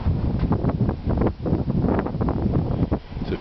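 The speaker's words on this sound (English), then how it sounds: "the wind was up to 65 miles per hour today" Strong blizzard wind gusting up to 65 mph, roaring and buffeting right against the microphone in uneven surges, loud and close, with no talking.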